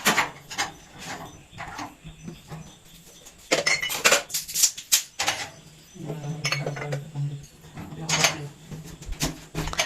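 Plates and drinking glasses clink and clatter in uneven bursts as they are loaded into a metallic dustproof dish cabinet drain rack, the clatter close and fairly loud, with people talking in between.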